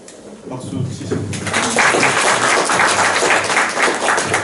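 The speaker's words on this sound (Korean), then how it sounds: "그러면 박수 치시고." Audience applause at the close of a university lecture on civic groups and cultural activism, a dense wash of clapping that swells after a quieter start and holds steady for several seconds, filling the room.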